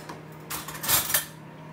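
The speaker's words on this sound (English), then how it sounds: "I'm just putting up dishes today" Dishes and cutlery being put away clatter close by in a quick burst of clinks and scrapes, with no talk.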